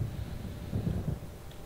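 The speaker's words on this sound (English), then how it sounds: "It seems there's a storm coming." Thunder from an approaching storm in the video game Alan Wake rolls as a low, distant rumble that swells and fades over a steady windy background.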